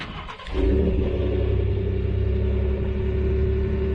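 A 2020 Ford F-150 pickup's 3.5-liter twin-turbo engine cranks and catches at about half a second, then settles into a loud, steady, deep idle rumble that holds through the end.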